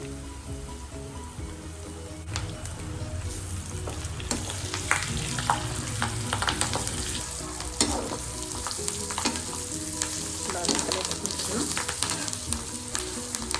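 Dried red chilies and curry leaves fry in hot oil as amla pickle tempering, a steady close sizzle with crackling pops and occasional stirring scrapes throughout.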